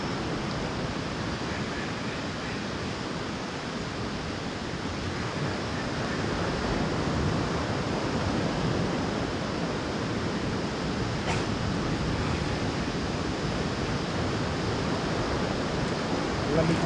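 Sea waves at a clean beach in Palawan, a continuous broad wash of surf with gusty wind on the microphone, steady and moderately loud, with faint voices at times.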